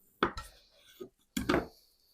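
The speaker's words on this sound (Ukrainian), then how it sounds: "Далі картоплю розрізаю наполовину повздовж." Two sharp, close knife strokes cutting a potato lengthwise in half on a board, with a small knock between them and quiet pauses.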